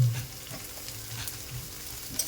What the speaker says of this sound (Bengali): হালকা লবণ, সব কিছু দিয়ে ভালো করে ভেজে নেব